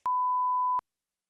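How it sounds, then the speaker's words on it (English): A single steady censor bleep masks a spoken name, lasting under a second, clean and alone with silence on either side. "You got to beep it out, Randy."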